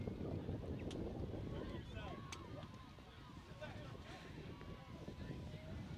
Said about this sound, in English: There's a little bit of a wind gust and a rain flurry just now.